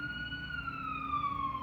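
An ambulance siren wails outside in a continuous tone that slowly falls in pitch as it passes, distant and fairly quiet.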